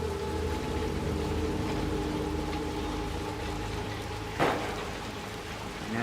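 Rain falls steadily in the video game Little Nightmares 2, a constant soft hiss of drops with a low background drone and one brief splash-like burst near the end, no voices.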